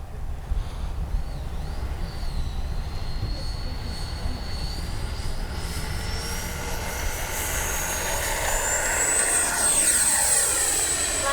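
A small HobbyKing Viper 64 RC model airplane engine whines steadily at high pitch, its tone rising and shifting as it flies past, continuous throughout.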